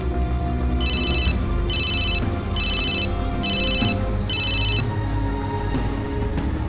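A telephone rings in five evenly spaced electronic trills, loud and clear over a steady low background hum, with no talking during the rings.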